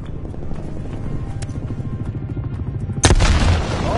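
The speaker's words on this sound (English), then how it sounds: "Hostile attack helicopter inbound." Attack helicopter rotor thrumming steadily in Call of Duty Cold War, then a sudden loud burst of gunfire and explosive booms around the three-second mark, dense and close.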